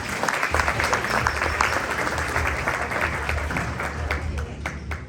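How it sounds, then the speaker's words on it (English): Sustained applause from the audience at a girls basketball club end-of-season banquet, a steady wash of many hands clapping for about five seconds, fairly near and even in loudness. "Give yourselves a round of applause."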